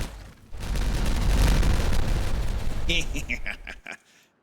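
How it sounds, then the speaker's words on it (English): A detonation in the beaver colony-building game Timberborn produces a loud, broad rumbling blast lasting about three seconds, then a scatter of sharper crackles and pops that quickly fade to silence. "And then let's just detonate that."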